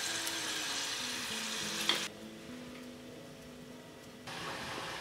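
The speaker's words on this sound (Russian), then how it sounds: "дадим нашей лосятине потомиться на остывающей сковородке оставшиеся 4 минуты" Moose meat simmering and sizzling in a cooling frying pan, a steady broadband hiss with faint stirring clicks that drops noticeably quieter partway through before the sizzle swells back up, with no talking.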